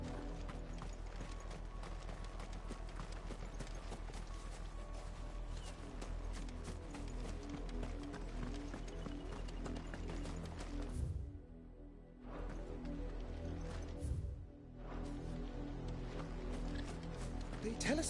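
A horse in Final Fantasy 16 clip-clops in an even, steady rhythm of hoofbeats, joined by a low, constant game backdrop, with two short dips where the sound drops away.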